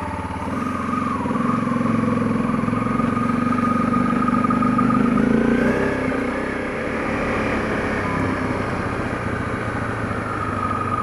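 A fuel-injected motorcycle idles and runs steadily in minus 12 degree cold, a continuous close engine drone with a slight rise in pitch midway, and no talking.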